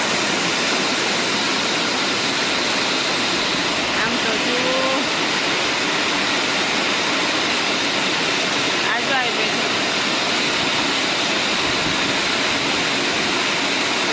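Steady, dense roar of heavy rain pouring down, loud and continuous throughout, with a person speaking briefly beneath it.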